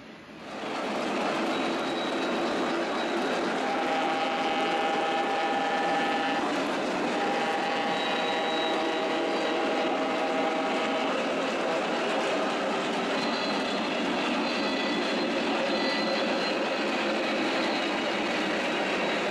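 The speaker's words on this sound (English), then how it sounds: "We have the Norfolk and Western FM Trainmaster running on the lower main line. And this is pulling a string of coal cars." A Lionel model train, a Norfolk and Western FM Trainmaster diesel on the lower main line, hauls a string of coal cars. It gives a steady, continuous rolling rumble with faint whine over the full stretch, and no one talks.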